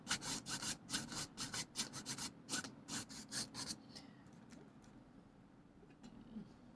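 A dry bristle brush is dragged across textured canvas in quick, rhythmic scratchy strokes, close and fairly quiet, about a dozen bursts before the scrubbing fades into lighter sporadic touches.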